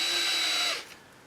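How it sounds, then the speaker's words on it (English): A step drill bores a hole in the body of a 1968 Mustang fastback during a Coyote engine swap, giving a loud, steady whine for under a second before spinning down and stopping. "What I usually do is take a step drill, figure out which one I need to use"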